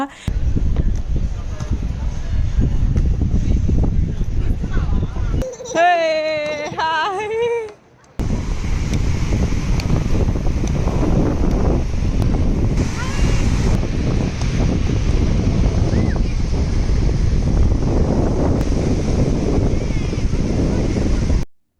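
Wind buffets the microphone over steady surf on a crowded beach during a sunny long weekend, a loud continuous rush broken briefly by a nearby voice.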